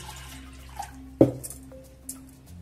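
Rinse water is tipped out of a washed cooking pot in a kitchen, a brief quiet splash amid soft background clatter and faint drips.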